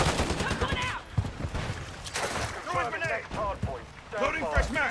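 Rapid gunfire rattles in a Call of Duty shooter match, bursts of shots with a heavier weapon popping in quick clusters while someone talks over them.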